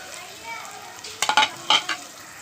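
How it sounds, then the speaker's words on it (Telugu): Aubergine masala curry frying in a pan as tomatoes go in, with a soft background sizzle and a few close scraping stirs, no voices present. "మన టమాటాను కూడా వేసుకుందాము"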